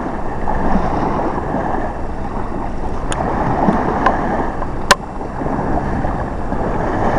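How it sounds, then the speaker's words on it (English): Sailboats running under engine power on a calm day with little breeze, a steady broad motor drone mixed with water and wind noise, with a few faint clicks and no talking. "Not enough breeze today, I don't think, for the sail, so they're all under"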